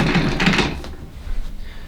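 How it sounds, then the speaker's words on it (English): An Officeworks office chair base being shaken by hand, giving a few dull rattling thunks and clatters, close and moderately loud, fading into lighter knocking. "So I'll quickly shake the base of this Officeworks chair just so you can hear it."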